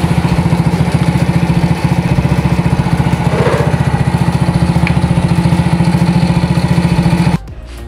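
A Honda Grand motorcycle engine idles steadily up close, a loud, even mechanical putter that holds for about seven seconds and then cuts off abruptly near the end.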